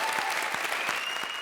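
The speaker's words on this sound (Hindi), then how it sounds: "इधर तालियां दो यार" A comedy show's studio audience claps in a brief, continuous burst of applause, even and moderately loud throughout.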